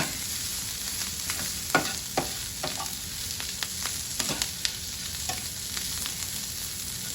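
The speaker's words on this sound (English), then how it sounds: "I just want to sear them just a little bit, just so they have some color" Chicken pieces searing in a hot pan for Chicken Alfredo, a constant close sizzle broken by several sharp spatula clicks and taps, with no talking.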